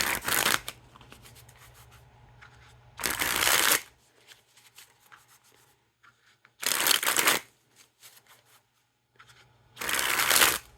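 Playing cards of an Orange Notorious Gambling Frog deck are sprung from hand to hand in three loud crisp fluttering bursts, each about a second long, separated by quiet stretches with soft handling rustle.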